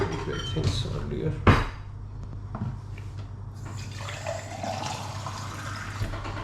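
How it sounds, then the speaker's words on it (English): Water is poured into paratha dough made with olive oil, a soft splashing burst near the start followed by quieter trickling, with some faint speech nearby. "You pour some water,"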